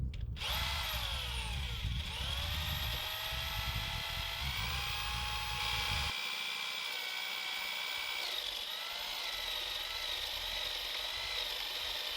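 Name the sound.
power drill drilling holes in boards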